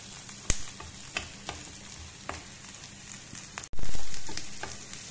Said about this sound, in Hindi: प्याज हमारा सॉफ्ट हो चुका है तो अब हम उसमें डाल रहे हैं लहसुन अदरक और ग्रीन चिली हरी मिर्चें।